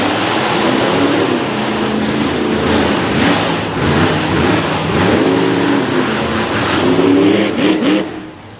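Drag racing car accelerating hard down the track at a Renegade racing event, a loud, continuous engine roar with rising and falling pitch sweeps through gear changes, then fading away at the end.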